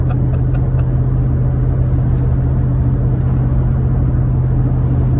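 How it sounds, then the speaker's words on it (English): Car engine droning steadily with tires being warmed up, a loud, close, constant rumble and whir that holds without breaks. "Dwayne's out here warming up the tires like he's in a NASCAR."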